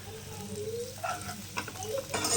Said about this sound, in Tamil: வெங்காயம் நல்லா வணங்கணும்